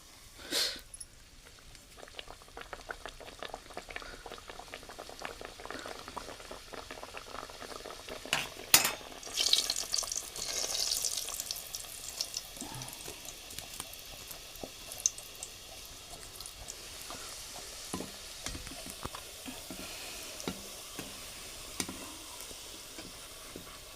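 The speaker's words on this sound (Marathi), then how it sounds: "आता आपण तळून घेऊया या आपण आता ही तळूया तेल गरम आहे आपलं" Sweet kachori frying in hot oil, with a soft, low sizzle and bubbling that carries on steadily, plus a few light clicks and a clearer burst of spatter partway through.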